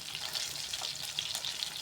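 Sun-dried catfish frying in a pan gives a close, steady crackling sizzle with faint irregular pops, heard on its own.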